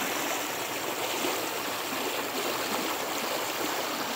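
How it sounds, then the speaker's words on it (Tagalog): Mountain river stream rushing steadily, a close, continuous broadband wash of flowing water with no breaks, heard on its own. "Ito ang ilog, dito kami naliligo."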